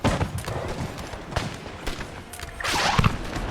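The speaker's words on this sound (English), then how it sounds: "The artillery going on is pretty insane." Artillery and musket volleys boom and crackle through a large Napoleonic battle in Napoleon Total War, dense overlapping gunfire with a heavier burst near the end.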